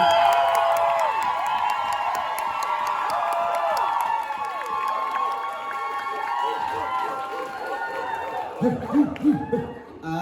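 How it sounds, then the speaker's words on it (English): Audience at a drag competition show claps, whoops and cheers, a lively crowd noise holding steady before thinning into scattered shouts and thumps near the end. "claps and cheers for Pixelation, everyone."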